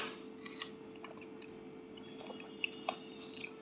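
Someone chews karonda (vakkayalu), a sour pink-and-white fruit with a slightly tough skin. Soft, close crunches and squishy bites are scattered quietly over a faint background hum.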